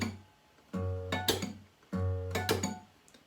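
Acoustic guitar groove in open D tuning, mixing bell-like harmonics with percussive palm and finger slaps; two repeated phrases of ringing notes broken by sharp slap hits, fairly quiet and without talk.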